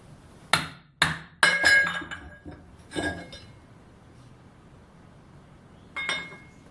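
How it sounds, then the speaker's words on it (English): Several bright metallic clinks and knocks of a hammer hitting a partly cut aluminium wheel rim, a quick cluster of blows followed by a lone strike after a pause, close and fairly loud. "And we can just hit that with a hammer now."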